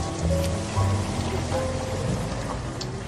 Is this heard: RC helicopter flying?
no